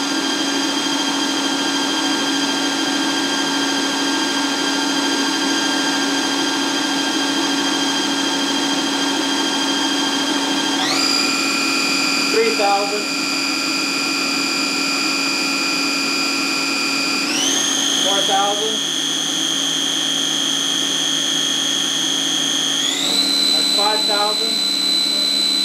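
A Bridgeport Torq Cut 22 CNC milling machine spindle with transmission option whines loudly and steadily, stepping up in pitch three times as it runs up through its speed range from 2,000 RPM toward 7,000 RPM.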